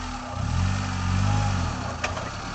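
A Suzuki Jimny reversing slowly, its engine a steady low hum that swells and settles, with a short sharp click near the end and no talking.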